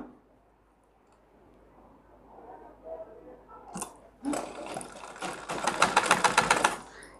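A sewing machine stitches a trouser pajama. It stays quiet under soft voices at first, then gives a short burst and settles into a loud, fast, rapid-clicking run of stitches.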